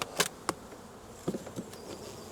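Honeybees drone in a low, steady buzz at an open hive during a spring inspection, with a few sharp knocks and scrapes of frames or tools on top, close by and without talk.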